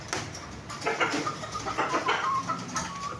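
An Asil Melsi Match hen gives a series of short, irregular clucks close by, with a few louder bursts and scratchy farmyard noise in between.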